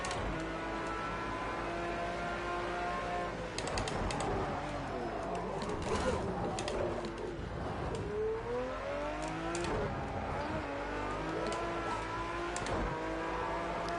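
Racing video game car engine revving steadily, with pitch rising and falling through gear changes and a brief tire squeal, loud and continuous for the whole stretch.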